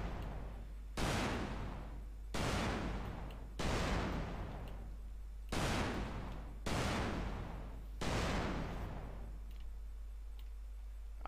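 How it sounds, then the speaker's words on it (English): Grand Theft Auto: San Andreas explosion: six heavy booming blasts, evenly spaced about every one and a half seconds, each decaying into a rumbling tail over constant background noise. "which is probably an explosion noise, which is this one"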